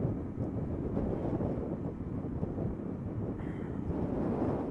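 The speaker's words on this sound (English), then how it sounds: "it's windy" Strong wind roars continuously with heavy low rumble buffeting the microphone while driving over the Itchen Bridge in Southampton, steady throughout with no voices.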